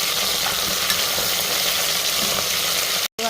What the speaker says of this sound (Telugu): ఒకసారి బాగా కలుపుకోవాలి.